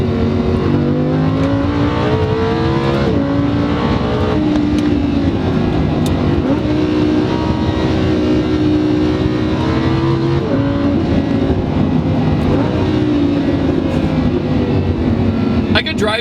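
A Lamborghini Huracan supercar's engine drones and revs loudly and continuously from inside the cabin, pitch rising and falling with throttle changes, with someone talking over it.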